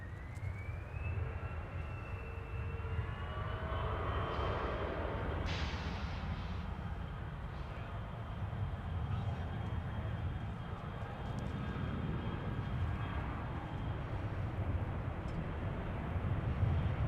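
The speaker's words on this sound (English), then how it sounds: "Delta Niner Heavy now arriving from London Heathrow at the Delta 2287 A330." A Delta Airbus A330 heavy jet arriving at Minneapolis–St. Paul airport, heard as a steady broad engine roar with a faint rising whine, sustained at moderate distance throughout.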